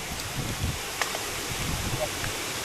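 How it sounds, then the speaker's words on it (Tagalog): Wind buffeting the microphone in low gusty rumbles, with faint muffled voices underneath. "Sabag ang hangin ito"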